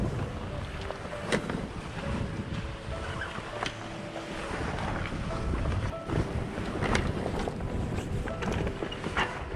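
A sailboat running through the night under the gennaker alone, mainsail stowed, on a passage from the British Virgin Islands toward the Dominican Republic; steady wind and rushing water fill the clip, with rigging creaks and occasional knocks.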